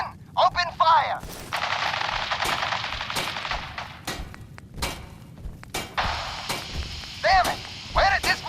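Video-game gunfire in Fallout 4 at the Massachusetts State House: loud bursts of rapid machine-gun shots and single cracks repeat throughout, with short shouted voices in between.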